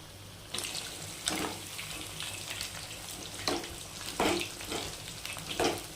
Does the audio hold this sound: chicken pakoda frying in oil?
yes